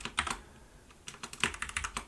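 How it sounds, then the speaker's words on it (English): A few quick keystrokes on a computer keyboard, a short cluster of clicks, a pause, then a rapid run of crisp taps, close and fairly quiet with no talking. "So I'm going to type in"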